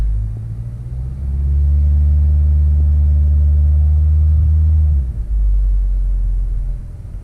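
A Honda Accord with a CVT revs up from idle, a loud, deep, steady engine rumble close by that rises, holds, dips briefly near the end and then settles back.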